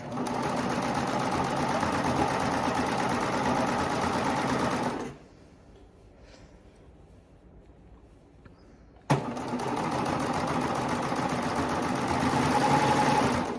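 A twin-needle sewing machine stitches a leggings seam, a loud rapid whirring run that stops for several seconds of near silence, then resumes with a sharp start and continues steadily.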